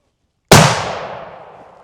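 Single loud hunting gunshot fired at a deer, a sharp sudden crack followed by a long fading outdoor echo, with no voices.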